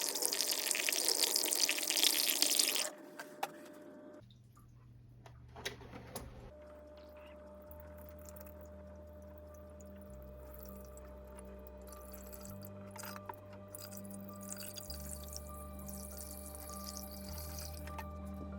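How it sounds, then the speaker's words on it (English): Water splashes and pours steadily into a betta fish aquarium for a few seconds, then gives way to a quiet low hum with faint trickling and occasional small clinks. "I'm going to add the water in very carefully"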